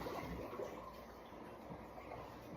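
Water draining out of a dish rinse bin after washing dishes, a faint, steady watery rush and trickle that continues without a break.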